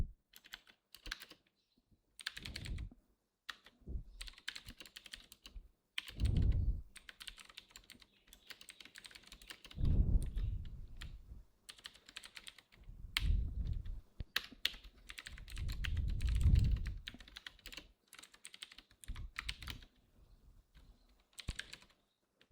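Code for printing a singly linked list is typed on a computer keyboard, with quick clusters of key clicks and heavier thumps from the space or enter keys, close and fairly quiet, with brief pauses between bursts.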